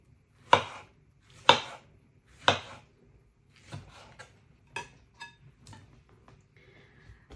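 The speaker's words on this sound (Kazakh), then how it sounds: "Енді қызанағымызды турап аламыз." A knife chops tomatoes on a board: three sharp, evenly spaced strikes come first, then a run of lighter, quicker cuts, all close up in a quiet kitchen.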